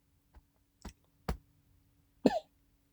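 A few small, isolated coughs close by, ending in one fuller throaty cough, with quiet gaps between them.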